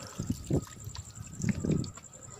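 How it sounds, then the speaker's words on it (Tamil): Water trickles thinly at a hill temple, in soft gurgling spurts over about two seconds, close by and moderately quiet. "தண்ணி கொஞ்சம் கம்மியாக தான் வந்துட்டுருக்கு"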